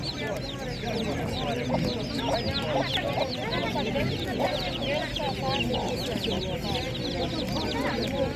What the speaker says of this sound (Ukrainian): Так, є домашні курчатка.